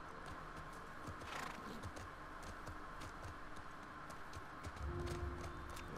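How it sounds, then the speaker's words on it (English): Horse hooves clip-clop in a steady walking rhythm in the video game The Last of Us Part II, quiet and close over low game ambience, with no speech. "Let's leave the horse behind."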